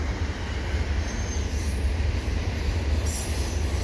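A long CN freight train with ES44AC locomotives and double-stack cars rumbles steadily past nearby, wheels rolling in a continuous low roar with faint high metallic squeals.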